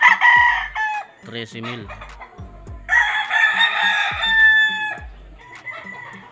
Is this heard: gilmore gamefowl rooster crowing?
yes